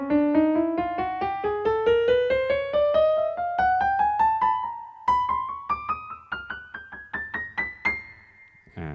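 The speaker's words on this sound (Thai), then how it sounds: "อันนี้คือเสียงเปียโนนะครับผม เสียงที่หนึ่งครับ" A Yamaha PSR-SX600 electronic keyboard with a piano tone plays a rising run of quick notes, then a faster series of repeated notes, clear and close without speech.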